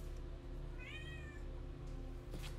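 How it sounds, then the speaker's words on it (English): A kitten gives a single short, faint meow indoors, rising then falling, against a steady background hum with no talking. "if you can hear a meow, it's my little kitten that decided to join me."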